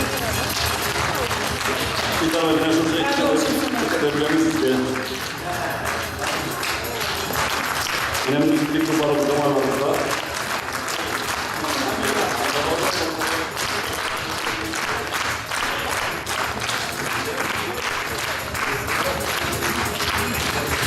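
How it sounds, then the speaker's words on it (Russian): An audience keeps clapping after a stage performance of a spring concert, a dense, steady wash of many hands filling the room, while someone speaks over it on a microphone. "Смолкающие аплодисменты."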